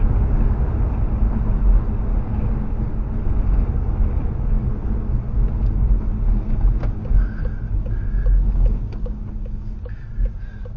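A 2019 VW Golf R with a blow-off valve fitted, its engine droning steadily as it drives, with short hissing bursts as boost dumps between shifts, heard from inside the car.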